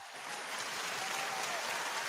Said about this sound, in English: I think we need some applause over that one